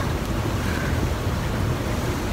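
Gusty wind and surf around a yacht at anchor at sea near Santorini at night, a steady broadband rush of wind and water with a brief louder gust buffeting the microphone at the very end.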